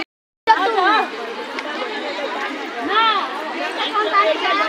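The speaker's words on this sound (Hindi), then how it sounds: "हम लोग आ गए बरैया का पोखरा और इतना भीड़ है यहाँ पे" Dense crowd chatter at Baraiya pond on Jitiya festival day, many overlapping voices and shouts forming a steady, close hubbub after a brief silent start.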